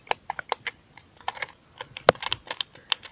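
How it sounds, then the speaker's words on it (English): Sharp, irregular clicks from the buttons of a Bop It toy, pressed one after another at close range, some snappier and louder than others, with no talking. "This has very clicky buttons"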